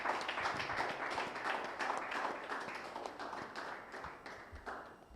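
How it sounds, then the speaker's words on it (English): A crowd applauds continuously, a dense wash of clapping that fades slightly toward the end. "let's give him a round of applause first"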